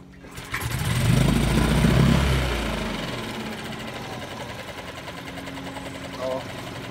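An outboard boat motor that had been hard to start, its carburetor freshly primed, catches after a brief pause and roars loudly up close. It then eases into a steadier, quieter running drone, with a short knock near the end.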